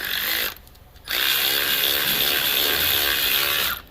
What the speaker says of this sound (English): the ratchet's going a little slow